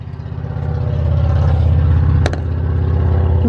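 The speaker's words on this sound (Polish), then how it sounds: "Boże, jak hałasują te samochody, znaczy te motory, kurcze." Loud motorcycle engines roar past outside a modular house in Ontario, a steady rumbling drone that builds and holds close by, with a brief sharp clatter partway through.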